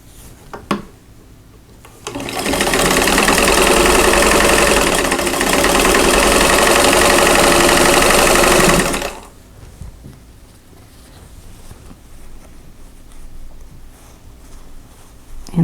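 A sewing machine stitches a row of a quilt block in one sustained, steady run of about seven seconds, loud and close, then stops, leaving quiet room tone with faint handling sounds.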